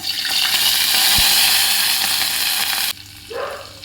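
Mustard seeds frying in sesame oil, an intense close sizzle with fine popping that holds steady, then drops sharply near the end to a quieter hiss.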